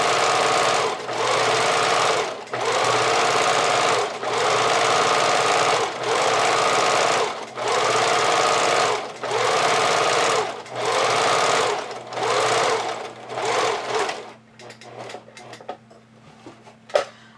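Sewing machine running a zigzag stitch to attach stretch lace trim for lingerie, loud and close in about eight even bursts of rapid stitching separated by short pauses, then stopping and giving way to faint handling clicks.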